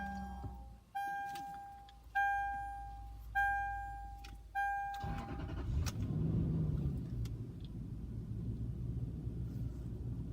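A 2005 Lexus GX470 starts up after several repeating ignition warning chimes, then the engine catches and settles into a steady, quiet idle rumble nearby.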